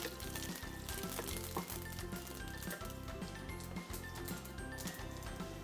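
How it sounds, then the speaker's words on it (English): Curry leaves sautéing in hot oil with mustard seeds make a loud, continuous crackling sizzle with sharp pops and spitting throughout. "5 to 6 curry leaves, saute them,"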